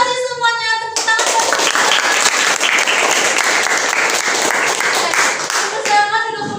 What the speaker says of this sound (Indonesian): Terima kasih semuanya, tepuk tangan.